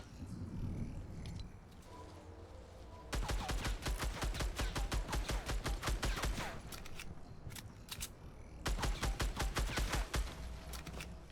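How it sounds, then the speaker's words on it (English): Video game gunfire in a solo Unreal ranked match tearing through natural cover: rapid bursts of automatic shots in two long volleys with a short gap, loud and close, with no talking over them. "This person must have a lot of bullets to destroy all the natural covers like that."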